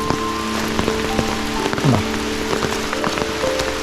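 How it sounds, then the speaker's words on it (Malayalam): Continuous water noise from a stream at a campsite, a steady wash of flowing water with scattered drips and splashes, close by and without talk. "ഇവിടെ നല്ലൊരു ക്രീക്കുണ്ട് ക്രീക്കല്ല അത് സ്ട്രീമാണ് കേട്ടോ"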